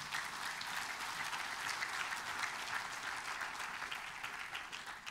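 A church congregation claps in sustained, even applause during a sermon, a dense wash of hands heard at some distance, fairly soft and unbroken, with no voices.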